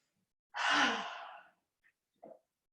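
A single deep inhalation during a yoga session, a soft airy breath swelling and fading over about a second, followed by two faint brief breath sounds in a quiet room.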